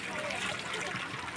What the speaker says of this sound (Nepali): यहाँबाट पानी निस्केर यसरी टायरमा